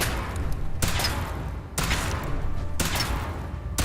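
Weapon fire during a power armor suit test in Fallout 4, with three loud, sustained bursts of shots that each cut in sharply and ring on until the next, no pauses between them.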